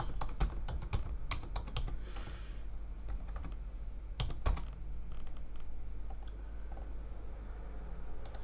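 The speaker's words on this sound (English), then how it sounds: "Just type VirtualBox." Typing on a computer keyboard, close and clear, with bursts of key clicks broken by short pauses and a few louder keystrokes.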